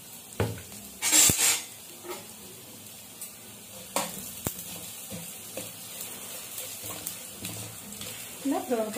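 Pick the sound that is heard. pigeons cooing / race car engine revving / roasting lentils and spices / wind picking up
roasting lentils and spices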